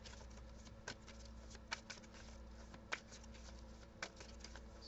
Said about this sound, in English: So let me go ahead and get your tarot cards